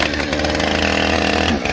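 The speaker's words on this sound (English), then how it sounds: "My saw of choice is my trusty Husqvarna 455 Rancher." A Husqvarna 455 Rancher chainsaw, about 12 years old, trims a knot off a log, its engine roaring loud, close and steady at full throttle for a short burst.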